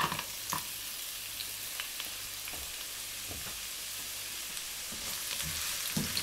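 Garlic frying in a wok as part of cooking pork belly, a steady bright sizzle throughout with occasional clinks and stirring scrapes, close and continuous.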